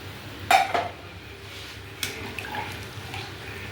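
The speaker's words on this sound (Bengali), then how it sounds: "এবারে জল দিয়ে দেবো" Water splashes into a pot of taro, banana flower and prawn curry with a sharp clank and a brief burst, followed by a quieter second knock and faint trickling.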